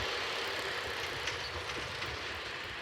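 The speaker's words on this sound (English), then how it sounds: "I think we're gonna have a freight coming around the bend here in a sec" A CSX freight train approaching around a bend: a loud, steady broadband rumble and roar of the locomotive and rolling cars, continuous and fairly close, with no voices.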